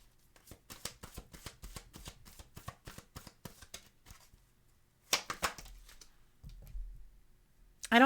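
Tarot cards shuffled by hand in a rapid run of crisp riffling flicks, then a pause and a few softer slides and taps as cards are drawn, close and fairly quiet.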